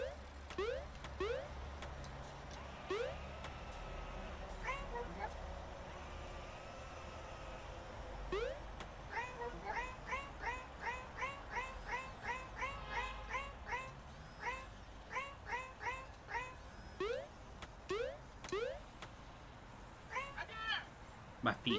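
Cartoonish cat meows from the video game Eclipse the Cat, a long run of short, evenly spaced mews in quick bursts over background game music, with a few louder drawn-out cries.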